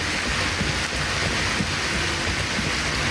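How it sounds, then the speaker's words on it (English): Steady, dense rain falls throughout in the video game Skyrim, a continuous broadband wash with no breaks and no voices. "Get out of this rain."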